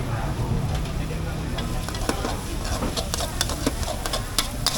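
Pad thai stir-fried on a charcoal stove at a Bangkok temple market stall sizzles steadily, punctuated by scraping and clanking of the spatula against the pan, amid soft market bustle.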